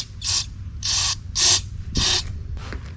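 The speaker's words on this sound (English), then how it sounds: "Throw some carburetor cleaner through everything." Carburetor cleaner sprayed onto a 1972 Volkswagen Super Beetle carburetor in four short, loud aerosol bursts at a steady rhythm, close by, followed by a small clink, with no voices.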